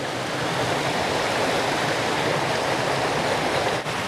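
A jungle river in Arunachal rushes on in a constant, full broadband wash of flowing water, close and loud without a break.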